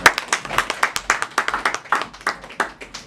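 Guests at a civil wedding clap in a quick, steady rhythm, close and fairly loud, with sharp separate hand claps all through a short burst.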